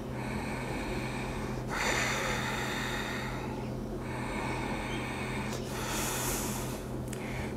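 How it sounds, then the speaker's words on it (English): A forceful breath pushed out through flaring nostrils, a harsh snorting rush of air, demonstrated as a contrast to Ujjayi breathing; it sounds close and steady over several seconds with a stronger burst partway through and no talking. "If we have the nostrils flaring and feel that sort of dragon breath coming through the nose,"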